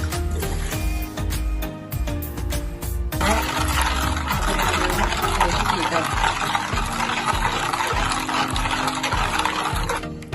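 Flattened rice (aval) being rinsed in water, with a steady close splashing and sloshing that runs continuously, preceded by a few seconds of sharper clinks and knocks.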